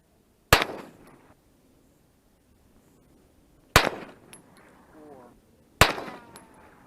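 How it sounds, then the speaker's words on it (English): Three sharp, loud gunshots outdoors, spaced a few seconds apart, each followed by a whining bullet ricochet and a short echoing tail, with a faint voice in between. "Hear that ricochet?"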